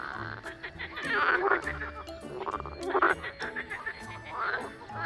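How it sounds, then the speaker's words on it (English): Frogs croaking in repeated throaty pulses, a steady rhythmic chorus close by with a low underlying drone, mixed with other calls. "Some frogs even have a throat pouch that puffs up like a balloon when they croak."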